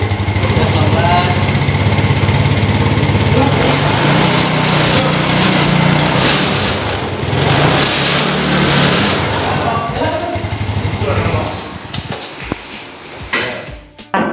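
An automatic scooter-style motorcycle engine in a vocational school workshop idles and is revved gently with the throttle, a steady loud drone running throughout with slight swells, while voices talk over it near the end.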